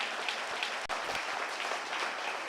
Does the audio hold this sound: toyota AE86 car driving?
no